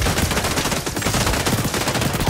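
Rapid automatic MP7 fire in the XDefiant shooter game, a dense, continuous burst of close, loud gunshots lasting the whole stretch with no talking.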